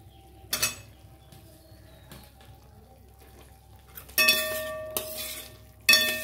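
Fried potatoes stirred into a cooked spice masala in a pan: a quiet low simmer with a few brief scrapes, then louder clattering, scraping stirs in two bursts near the end.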